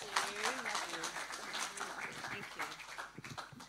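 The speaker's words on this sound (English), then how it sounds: "give her a big clap offering" Church congregation claps for the pastor, a soft spread of applause heard at a distance beneath talking voices throughout.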